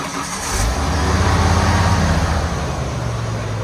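A Ford F100 truck rolls under engine power with a mid-pitched engine note that rises as it pulls away, then holds a steady drone. It sounds close and moderately loud.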